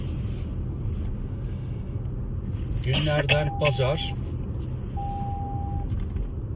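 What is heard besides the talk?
Toyota RAV4 car driving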